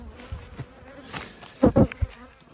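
Honey bees buzz around an open hive during a spring inspection, a steady low drone with individual bees zipping close past in brief louder swells.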